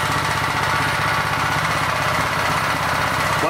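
A small engine fed straight HHO gas with no carburetor runs at a steady, loud, even drone with a fast regular pulse, heard alone and unbroken throughout.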